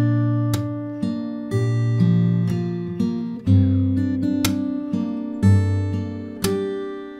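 A fingerstyle acoustic guitar plays a verse of a song, with plucked notes ringing over steady percussive taps on the body. The beat is regular, clear and close, with no talking.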